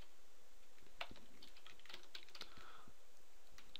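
Rapid typing on a computer keyboard, with a burst of uneven key clicks and clacks close by and no talking.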